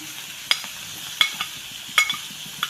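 Crushed shallots and dried red chilies fry in a pan with a steady background sizzle, punctuated by four sharp metallic clinks of a utensil stirring against the pan at roughly regular intervals.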